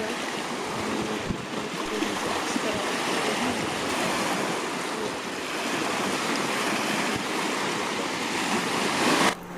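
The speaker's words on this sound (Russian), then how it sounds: "Просто послушайте эти волны и посмотрите на эту красоту." Steady, loud surf of waves washing in continuously, with a broad roar and some wind noise, on a wild riverside or lakeshore in the Putorana Plateau.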